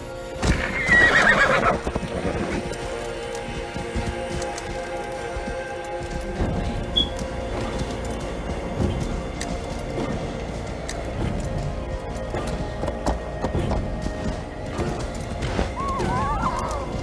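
A horse in the video game Assassin's Creed Valhalla lets out a loud, close neigh at the start, then its galloping hoofbeats carry on steadily under the game's ambient sound.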